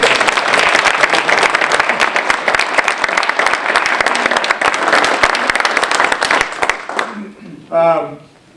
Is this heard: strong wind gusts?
no